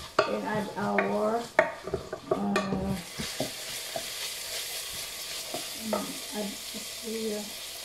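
Garlic fries in oil for a Filipino chicken dish, a steady sizzle with occasional stirring scrapes and clinks, while a person talks over the first few seconds.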